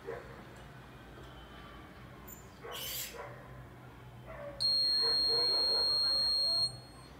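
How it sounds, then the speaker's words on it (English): A steady electronic beep from an AlAleem Model L1 automatic prayer-time clock holds for about two seconds over quiet room noise, preceded by a few faint clicks and rustles. "the moment it becomes 0 you'll hear a beep for 3 or 4 seconds"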